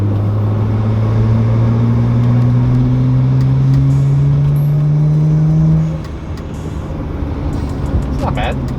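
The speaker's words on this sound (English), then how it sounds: "So partial throttle. This is what it would sound like when it's cruising." BMW 335i with a single-exit exhaust cruising at partial throttle: a steady, loud engine drone with a slowly rising pitch that eases off after about six seconds, then continues as a lower rumble.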